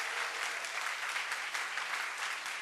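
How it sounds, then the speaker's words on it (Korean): A church congregation gives a big round of clapping for the drama team, a dense, even patter of many hands heard alone, moderately distant and steady throughout. "우리 드라마 팀에게 다시 한번 큰 박수 부탁드릴게요"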